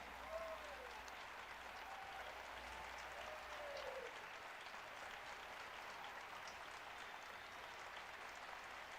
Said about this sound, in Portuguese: Não, aí tem que aplaudir mesmo